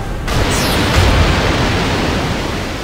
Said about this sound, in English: The waves! It's as if they've come alive!